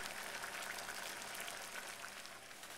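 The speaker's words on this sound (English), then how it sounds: "our water is boiling for our double boiler" Water boils in the lower pot of a double boiler on a kitchen stove, a steady, soft bubbling hiss that runs evenly throughout with no voices over it.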